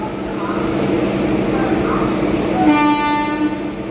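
A train bound for Tirunelveli rumbles into a station in Tamil Nadu with a steady low roar, then a horn sounds twice over the noise; voices murmur in the background.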